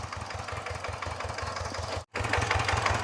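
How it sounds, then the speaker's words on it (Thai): A tractor engine chugs steadily with a low, rhythmic knocking pulse, briefly cutting out for a split second before resuming. "ฮัดขับรถไถอยู่"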